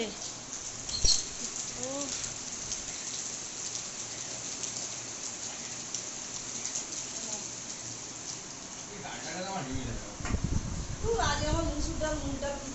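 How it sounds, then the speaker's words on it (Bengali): Heavy rain falls steadily outside as a dense, unbroken hiss, with voices talking over it toward the end. "বাইরে ঝমঝমিয়ে বৃষ্টি হচ্ছে"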